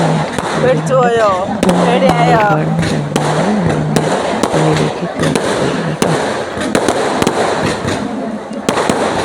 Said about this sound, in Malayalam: ഇപ്പോൾ പടക്കമൊക്കെ പൊട്ടിക്കൊണ്ടിരിക്കണം